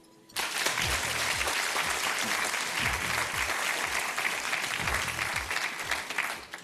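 A French game-show studio audience breaks into sustained applause, with dense, steady clapping starting abruptly and continuing for several seconds.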